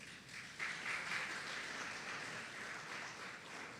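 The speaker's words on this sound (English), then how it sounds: "Let's give Bhakti Vasudev Swami another round of applause" Applause from a temple congregation at a Krishna Mandir Bhagavad Gita Jayanti service fills the room after a talk, a soft, even wash of clapping heard from a distance that swells after a brief quieter start.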